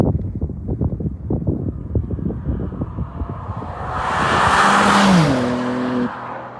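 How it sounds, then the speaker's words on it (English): A 2025 BMW M4 Competition approaches from a distance with a low, pulsing engine note that swells into a loud rushing pass, then pulls away with a rising then falling drone. "One last thing I gotta show you guys is a proper flyby of this BMW M4 competition."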